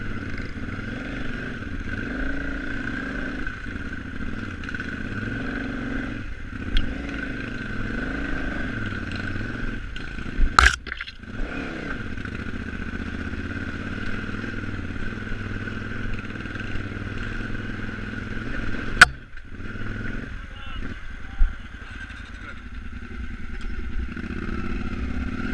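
KTM 950 motorcycle engine labouring at low revs on a hot day with the clutch slipping, a steady uneven mechanical drone with a couple of sharp clatters, close and loud, no talk.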